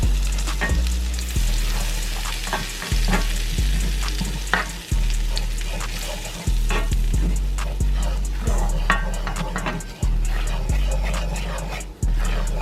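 Flour being stirred into a hot roux for crawfish étouffée, a steady close sizzle with regular scraping strokes of the spoon against the pot, repeating every second or so throughout.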